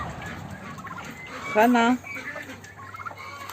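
A turkey lets out one loud, short gobble amid a fight with a rooster in a farmyard ring, rising over a background of clucking fowl, with a brief spoken word nearby.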